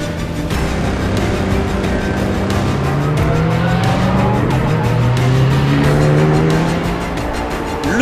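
Race cars on the Dijon-Prenois circuit, loud and continuous engine roar with rising and falling revs from several cars and occasional tire squeal, no talk.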